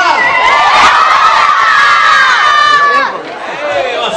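A loud crowd of children shouts and cheers together at a Christmas festival in an outdoor acoustic shell, the dense burst of high voices holding strong before easing slightly near the end.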